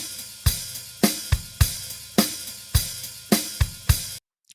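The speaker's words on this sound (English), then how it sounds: "With the New York parallel compression, it sounds this way" Soloed drums with heavy New York parallel compression blended in, a repeating kick-and-snare groove with fuller, sustained hits and a thicker body, close and loud before a sudden stop.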